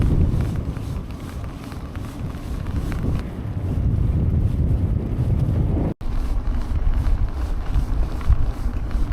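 A strong headwind buffets the microphone of a cyclist bikepacking the John Muir Way in Scotland, a loud, continuous low rumble and roar with gusty surges and one brief dropout, no voices.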